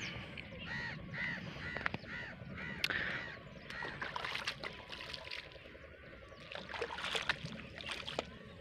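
Crows caw repeatedly outdoors beside a crop field with water running through it. The harsh calls come in bursts over steady rustling background noise, at moderate distance.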